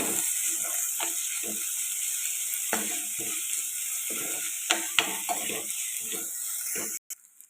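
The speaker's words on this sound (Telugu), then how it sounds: "ఇప్పుడు అల్లం వెల్లుల్లి పేస్ట్ అయితే వేసుకున్నాం ఒక స్పూన్ ఇది పచ్చివాసన పచ్చివాసన పోయేదాకా ఫ్రై చేసుకోవాలి" Ginger garlic paste fries quietly in a pan for an egg and dried fish curry. A soft steady sizzle runs under repeated close scraping strokes of a spatula, ending abruptly.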